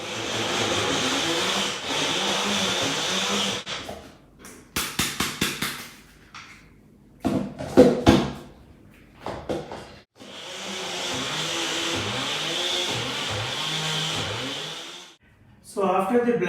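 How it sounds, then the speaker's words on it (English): A blender whirs through a chocolate, peanut and carob mixture in two long continuous runs, with a series of short pulsed bursts and pauses in between. "and we will blend them again"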